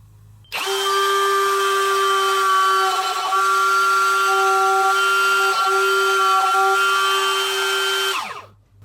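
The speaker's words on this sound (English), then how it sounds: "Then I'm just going to freehand route all the way across until it exits out the back end of the piece." A router is run freehand across a wooden turning to cut flutes, starting abruptly and holding a loud, steady high-pitched whine for about eight seconds before spinning down; no talking.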